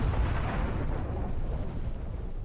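A ship explodes after a quantum torpedo hit in the Star Trek Online video game. The blast is a loud, sustained, rumbling roar that holds steady for the whole two and a half seconds.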